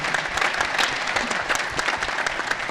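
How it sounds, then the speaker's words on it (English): Steady audience applause for a panel moderator at a Michigan State athletics event, many people clapping together at an even level throughout. "Okay, round of applause for Jamie as well."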